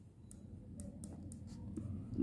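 Pen or pencil writing on paper in a quiet room, a faint scratching with soft, intermittent strokes, close and alone.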